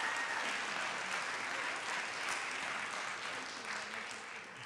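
City council meeting audience applauding boat engineering students, steady dense clapping from a crowd in a hall that holds evenly and fades slightly at the end.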